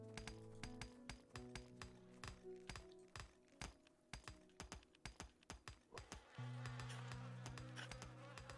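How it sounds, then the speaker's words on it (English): Faint buzzing of bees in the Stonehearth video game, a thin quiet hum under rapid clicking and tapping that runs throughout, with soft game tones layered beneath. "I swear I can hear bees."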